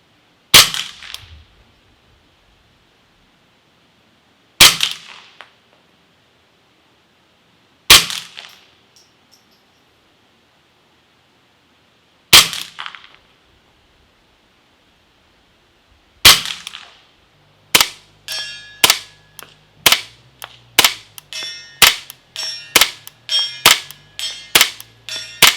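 Suppressed shots from a 10/22 rifle fitted with an Optimus Micro silencer and firing subsonic ammo: five sharp, widely spaced cracks, then a quick rapid string of about a dozen more, with no talking.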